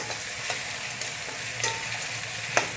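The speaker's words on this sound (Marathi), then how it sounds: "एक सोनेरी रंग येईपर्यंत आपल्याला त्याला एक दीड ते दोन मिनटं मोठ्या आचेवर फ्राय करून घ्यायचे" Onion frying over high heat in a pan for a chicken leg masala, a steady close sizzle with occasional scraping clinks as it is stirred, no voices.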